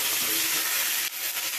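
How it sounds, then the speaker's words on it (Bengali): Bitter gourd and mixed vegetables fry together in a pan, giving a dense, continuous close-up sizzle with a brief dip as they are stirred. "উচ্ছেটা আগে একটু ভেজে নিয়ে তার মধ্যেই আমি সব আনাজ দিয়ে দেবো, দিয়ে সব একসাথে একটু ভেজে নেব।"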